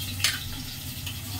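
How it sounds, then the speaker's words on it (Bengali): A fish head fries in a pan with a steady soft sizzle, broken by one sharp scrape or clink of a utensil near the start and a fainter one later, close and moderately quiet with no talking. "আর মাছের মাথাটা এখন ভাজতে বসিয়েছি"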